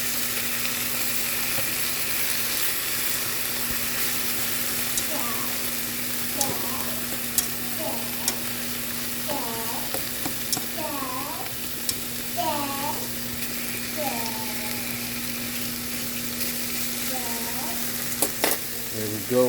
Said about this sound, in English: Stir that pot, stir the pot.